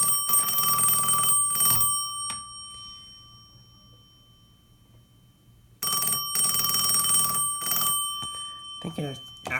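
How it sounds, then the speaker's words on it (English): Western Electric 702B Princess telephone ringing loudly in an uneven triple pattern, two bursts close together and then a third, a pause and the pattern again, with faint talk afterward. "It's like a non-uniform triple ring"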